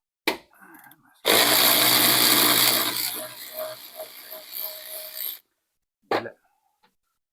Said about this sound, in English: Now I can use my ratchet for that, my electric one.